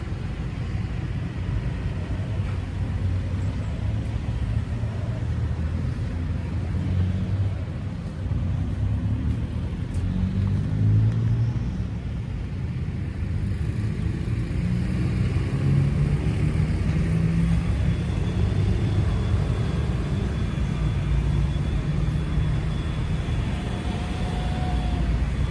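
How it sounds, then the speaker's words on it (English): Road traffic passes through a small town in Chiang Rai, Thailand, a steady low rumble of engines with vehicles approaching and receding over the long stretch, loud and continuous with no talking. "Around just roads, a lot of traffic, you know, with this small town."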